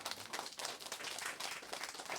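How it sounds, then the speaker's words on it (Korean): A church congregation claps together during a Korean sermon, a soft, distant, continuous patter of many hands lasting a couple of seconds with no talking over it. "모세에게 박수 한번 해줘요"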